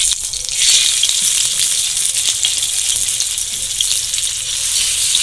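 Chicken kathi kababs sizzle on a hot, oil-brushed tawa, a loud, dense, continuous frying hiss up close, with light scraping and stirring noises underneath.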